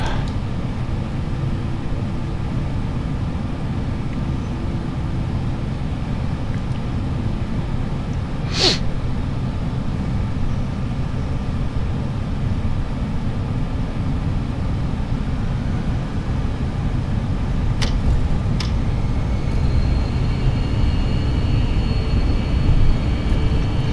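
Airbus A320 engines in a flight simulator spool up for takeoff, a loud, steady low roar and hum held throughout, broken by a few brief sharp clicks.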